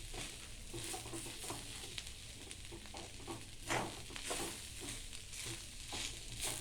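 Coconut and onion being stirred together in a hot pan on a gas stove for onion gravy, giving a steady close sizzle with soft scraping and patter of the spoon, no voices.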